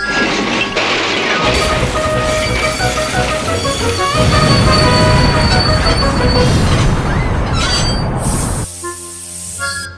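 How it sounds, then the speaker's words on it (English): Train engine rushing through a tunnel and braking to a stop at buffers: loud metallic wheel squeal and rumbling clatter build and grind on, then cut to a sharp hiss of released brakes near the end. "I whooshed through the tunnel and stopped an inch from the buffers, like this."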